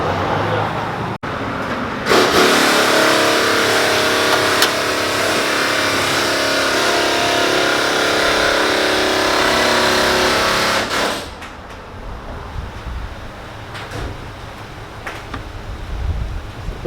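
A pickup truck with a 2006 engine does a burnout with a loud, continuous, roaring rev that lasts about nine seconds, then drops to a lower idle rumble with faint voices nearby.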